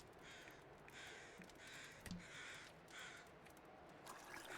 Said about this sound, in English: So many noisy birds around.